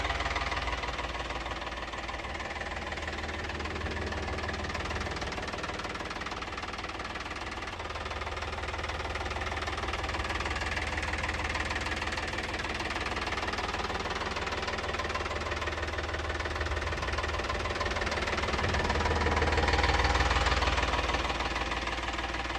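A Mahindra Yuvo 575DI tractor diesel engine idles steadily close by, with a rough knocking chug and vibration that swells slightly near the end, and no voices over it.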